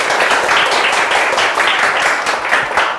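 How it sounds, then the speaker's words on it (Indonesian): Studio audience claps to welcome a guest onto an Indonesian business talk show, a loud, close, continuous patter of many hands with slight surges, no voices over it. "Tepuk tangan dulu dong."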